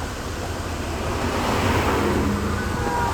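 Heavy rain driven by strong wind makes a dense, steady roar with gusty swells. It is loud and continuous, with no speech.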